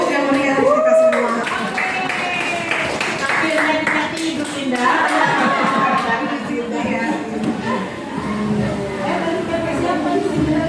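An audience at a school program breaks into lively applause, scattered clapping running underneath a speaker's voice and background chatter, fairly close and steady.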